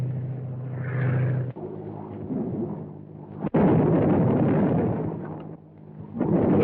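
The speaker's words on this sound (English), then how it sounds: "Landing tear gas bombs all around them, but they don't seem to have any effect." Tear gas bombs exploding in a 1935 film serial, a series of deep rumbling booms and crackling bursts, one sharp blast in the middle, rolling continuously over several seconds without talk.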